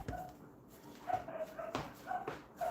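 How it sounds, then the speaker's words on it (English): Several puppies yip, bark and whimper while they scuffle downstairs in a house, heard as brief high yelps repeated in irregular bursts at moderate distance, with no one talking. "Can you hear them fighting downstairs, the puppies?"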